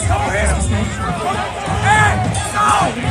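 Street crowd surrounding a man in Little Somalia, shouting loudly at close range, with several raised voices overlapping in bursts over a constant murmur of babble.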